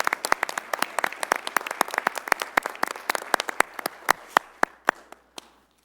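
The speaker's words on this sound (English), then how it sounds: "so let's give these guys applause." Sparse applause at a city council meeting, a small group clapping in distinct, separate claps that stay evenly spaced, then slow and trail off into silence near the end.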